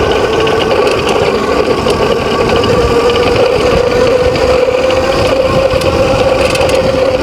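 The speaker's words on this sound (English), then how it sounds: "Most of that is just chain noise because we got a loose chain." A Qwayq Em40 electric dirt bike rides over a bumpy road, its loose chain rattling and clattering continuously over a steady motor whine and rough rumble, all loud and close.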